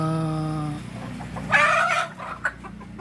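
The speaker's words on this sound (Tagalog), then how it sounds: "upgraded na native chicken" Upgraded native chickens clucking close by, a hen's drawn-out call followed by short clucks and a few sharp squawks against a quiet farmyard background.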